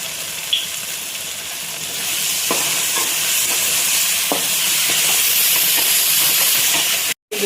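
Tomato and sauces stir-fry in a hot pan for paneer fried rice, a steady loud sizzle and hiss with occasional scrapes of the spatula, swelling slightly as the mixture is tossed and briefly cutting out near the end.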